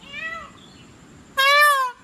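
A peacock gives two loud, harmonic wailing calls, a softer one first and then a louder, sustained cry, with quiet background noise between them.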